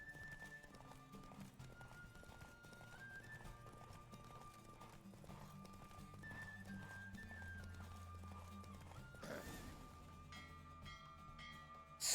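Horses gallop in a race in The Witcher 3, their steady rhythmic clip-clop of hooves running under game music, with a neigh or burst of noise near the end.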